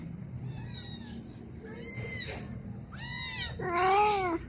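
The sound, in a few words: cat meowing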